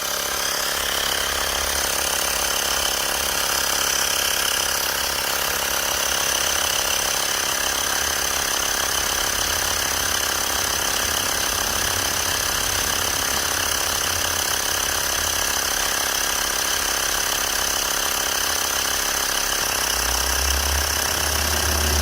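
A Xiaomi Mi wireless rechargeable pocket air pump inflates a car tyre toward 33 psi, giving a continuous, loud buzzing compressor drone that holds steady for the whole stretch with no talking.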